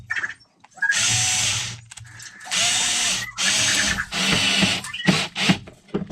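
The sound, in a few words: power screwdriver driving screws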